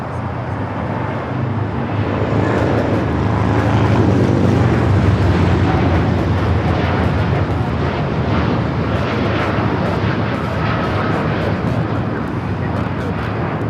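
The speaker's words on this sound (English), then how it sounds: "This is Japan Airlines Flight 69 taking off to Osaka on the 787-9 Dreamliner" Japan Airlines Boeing 787-9 Dreamliner taking off from LAX runway 25 right, a broad sustained jet roar that swells toward the middle and carries on steadily.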